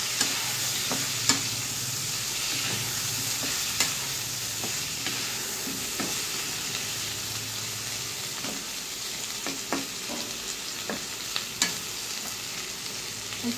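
Stalk vegetables and potato frying in a pan of hot oil, a steady dense sizzle broken by scattered scraping clicks as a spatula stirs them, close and continuous throughout.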